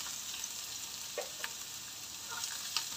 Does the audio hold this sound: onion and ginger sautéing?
yes